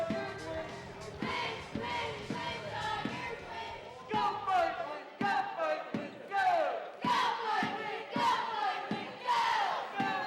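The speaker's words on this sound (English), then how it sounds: "Tiger cheerleaders are in full force tonight, cheering on their Morgan City Tiger program" Tiger cheerleaders at a Morgan City high school basketball game shout rhythmic chants in unison, with a steady beat of repeated calls over a gymnasium crowd.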